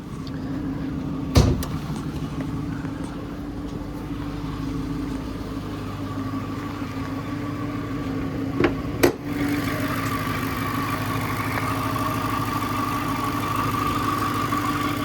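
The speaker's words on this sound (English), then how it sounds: "that basic normal noise and the loud injector ID 1050s" A Dodge Charger R/T fitted with a 3.0 Whipple supercharger and ID 1050 injectors idles steadily and close, a low rumble with mechanical ticking, broken by a couple of sharp transient clicks.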